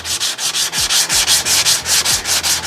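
Close, steady hand-sanding of body filler over a truck dent repair, with even back-and-forth rasping strokes repeating quickly and loudly, and no voices.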